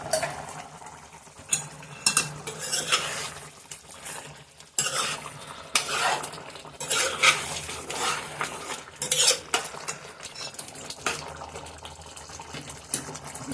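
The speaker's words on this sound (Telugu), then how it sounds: "కాసేపు మగ్గినాక గరం మసాలా వేసుకొని కలుపుకోవాలి." A spoon stirs garam masala into green chilli chicken curry in a pan, with repeated scraping and clinking against the metal over a faint sizzle, close and uneven.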